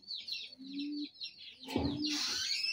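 Raj Golla pigeons, a male and a female of the same colouring, softly cooing nearby. There are low rolling calls and some rustling, with a brief flutter partway through.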